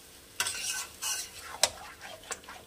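Shahi chicken korma is stirred and fried in a pot over high flame: a low sizzle broken by several loud, bright scraping strokes of a spatula against the metal, up close, with no voices.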